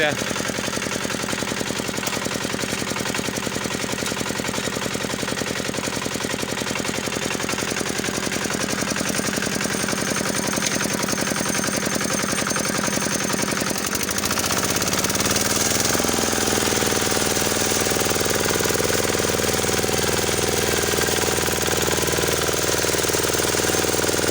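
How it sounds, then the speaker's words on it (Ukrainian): A walk-behind tractor fitted with a rotary tiller churns through ploughed soil in early spring, its engine droning steadily and loudly throughout, with a shift in pitch and load about two-thirds of the way in. "Ця людина перший раз сьогодні з мотоблоком працює."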